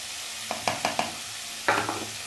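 Paneer dropped into a pan of onions fried until pink, with a few sharp stirring scrapes followed by a brief burst of sizzle, close and fairly quiet.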